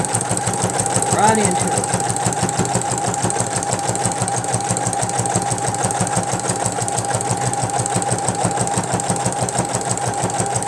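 A home sewing machine stitches fabric in a long straight seam, its steady rapid mechanical chatter running without a break, loud and close, while someone briefly speaks over it.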